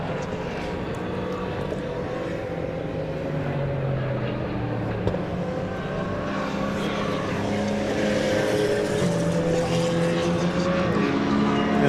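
Caterham race cars at Silverstone roar past with engines rising and falling in pitch, a loud, continuous racing drone as several cars pass.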